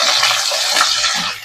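Onions, garlic and green chillies fry in a pan with a steady, dense sizzle and soft crackle that runs unbroken for the whole moment, close and fairly loud, with no talking.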